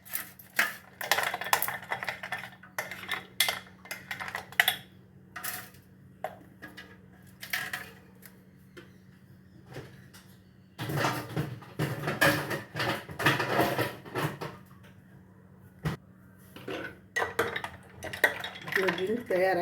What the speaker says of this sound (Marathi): पण आईस टाकून घ्यायचं याच्यामध्ये.